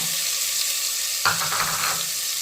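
Onions hit hot oil seasoned with cumin and asafoetida for an aloo baingan gravy, a loud continuous sizzle that flares briefly midway as they go in, close and alone.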